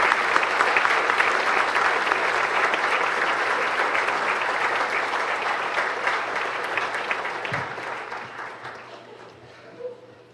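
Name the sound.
applause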